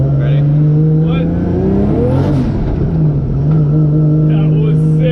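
A rowdy turbocharged car accelerates hard with its wheels spinning, the loud, steady engine drone rising in pitch as revs climb, with people talking over it.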